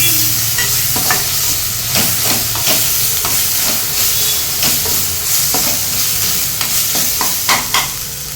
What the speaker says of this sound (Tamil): இஞ்சி பூண்டு பேஸ்ட் வந்து போட்டுக்கலாம் நல்லா வதக்கிக்கோங்க